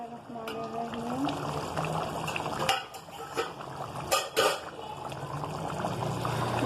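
A little water is poured into a pot of cooking keema aloo, with clinks of utensils against the pot and a soft sizzle in between, partly under a voice.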